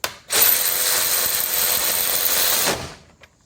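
A DeWalt DCF513 cordless brushless ratchet tightens a bolt in one loud, steady motor whir lasting under three seconds, then cuts off abruptly with a faint click after.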